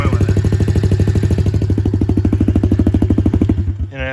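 A Honda CRF110 dirt bike with a slip-on exhaust idles and blips close by, a steady pulsing engine note with rapid firing rhythm that rises briefly near the end.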